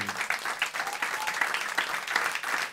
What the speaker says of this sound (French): vous pouvez les applaudir pour moi